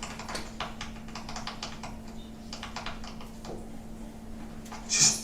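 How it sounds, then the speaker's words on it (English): Rapid clicking of texting on a phone screen, bursts of small taps in uneven runs over a low steady hum, ending with a brief louder rustle. "It sounds like we're hearing like a clicking sound as though you're texting."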